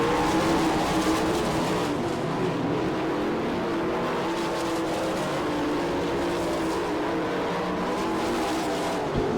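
410 sprint cars racing the final lap at Attica, Ohio, a dense, continuous roar of high-revving engines that stays loud throughout with no talk.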